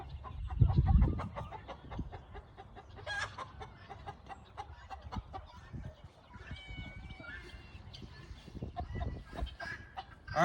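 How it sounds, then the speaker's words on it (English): A rooster and hens on a small farm cluck and squawk in irregular bursts, fairly close, over a soft outdoor background with occasional louder calls. "You can hear the rooster in the background."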